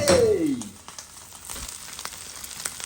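Red onions dropped into a hot pan, a sharp burst of sizzling frying that settles into a steady crackle, with a short sliding tone at the start.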